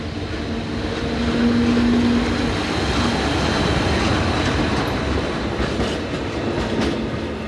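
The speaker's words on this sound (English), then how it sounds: "11641 had visited Mensnau and was returning with freight train number 64871 when filmed here just east of Getnau." Freight train number 64871, hauled by locomotive 11641, rolls past just east of Getnau in Europe, a loud steady rumble with wheel clatter and a faint squeal, no voices.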